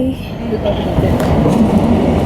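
The Kalka to Shimla toy train runs just after leaving Kalka station, a steady close rumble of wheels and carriage noise with a person talking over it.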